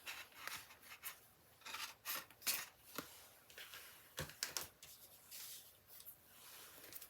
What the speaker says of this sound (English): first I want to texture these using, excuse me, this embossing folder called Eyelet